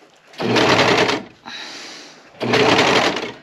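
A Harbor Freight sewing machine stitches fabric in two loud, close bursts of rapid motor whirring, separated by a short, quieter pause while the fabric is turned.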